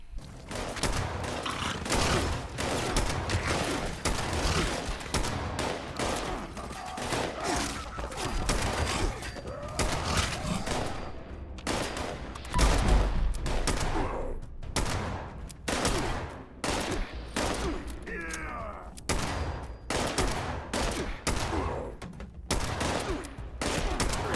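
Semi-automatic rifle fire in Fallout 76, a dense, loud, continuous stream of rapid shots with short irregular gaps between bursts throughout.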